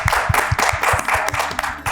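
Applause from a studio audience for a TV show's producers and writers during an Eid-ul-Fitr broadcast, brisk close clapping with sharp individual claps standing out, short and lively, no voices on top.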